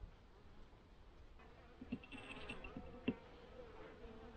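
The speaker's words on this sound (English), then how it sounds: "There's definitely some bees in there." Honeybees in a Pennsylvania winter hive hum faintly and steadily during an inspection, with a few soft knocks and clicks nearby.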